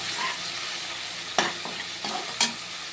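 Pointed gourd and rice frying in a pan, a continuous near sizzle broken by a few sharp scraping stirs of the spoon, with no voices.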